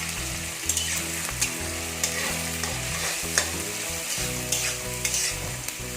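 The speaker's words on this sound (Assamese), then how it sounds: "পিঁয়াজখিনি আমি গোল্ডেন ব্ৰাউন কালাৰ হোৱালৈকে ভাজিম।" Onions fry in hot oil for chicken do piyaza, a steady close sizzle broken by soft clicks and scrapes of stirring, with no talk.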